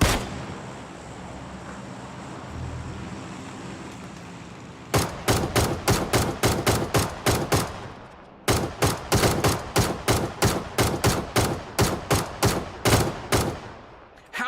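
ACE32 assault rifle in PUBG firing close and loud in two sustained bursts of rapid, evenly spaced shots, each burst lasting several seconds, after a stretch of low rumbling ambience.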